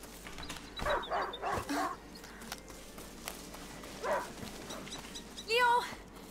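Leo the hunting dog in A Plague Tale barks in a quick run of several yelps, then a single bark and a final yappy burst, set against quiet game ambience with a voice nearby.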